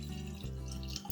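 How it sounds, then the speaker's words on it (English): Water pours steadily into a snow globe jar, a quiet continuous trickle and splash with no talk. "what we're gonna do first is we're gonna fill up this jar with water."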